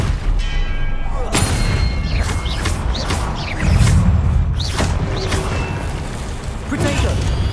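Spell-casting effects from the Hogwarts Legacy video game, a disarming charm among them: dense layered whooshes, impacts and booming crashes in quick succession over continuous game noise.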